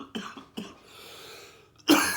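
Several harsh coughs, two short ones early followed by a breathy pause and then a louder, longer cough at the end, close by with no talking.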